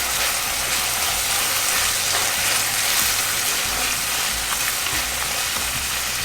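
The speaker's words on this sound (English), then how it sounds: "Saute this for about 2 to 3 minutes." Dried shrimps sautéing in a hot pan, giving a dense, loud, continuous sizzle and crackle with faint stirring rattles throughout and no voices.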